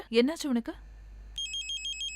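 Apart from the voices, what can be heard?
phone ringing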